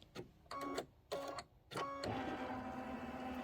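A quilting machine stitches words onto a quilt block, giving several short mechanical bursts followed by a steadier run, close and fairly quiet with no talk.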